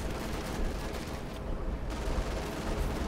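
Artillery fire in Company of Heroes 2: a constant rumbling barrage of booms and crackling blasts, dense and continuous throughout, with no talk over it.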